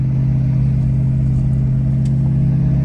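A loaded truck towing a gooseneck trailer climbs a steep snowy driveway in four-wheel drive, its engine droning steadily and loudly up close throughout, with no speech.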